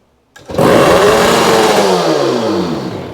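A motorcycle engine catches after a brief silence and immediately revs high, holding a loud, rising-then-sagging whine with rattling mechanical clatter throughout.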